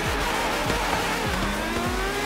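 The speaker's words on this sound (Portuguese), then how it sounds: "ó o ronco no meu carro, se liga" Car engine roar in Forza Horizon 3, loud close revving with repeated quick pitch sweeps as the motor climbs and drops through gears, continuous under a faint background.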